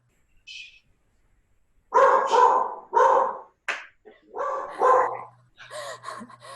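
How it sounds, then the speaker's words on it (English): Several dogs barking in short bursts, loud and close, with a few yips and brief pauses between volleys during an online dance class. "Just dogs barking."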